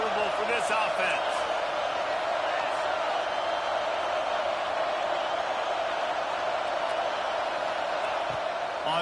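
Stadium crowd din from an American football video game, a steady loud roar of many voices with scattered shouts and whoops running evenly through the whole stretch.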